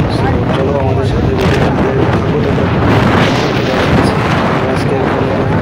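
Riding a motorbike on a road: loud, constant rushing wind buffeting and engine roar throughout, steady and close, with a person speaking over it.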